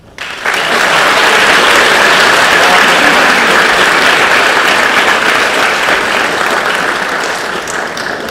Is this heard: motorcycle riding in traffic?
no